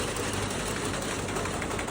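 Mini combine harvester with an 800 cc engine and hydraulics running smoothly, a steady close mechanical hum with even broadband noise and no squeaks or knocks, heard alone.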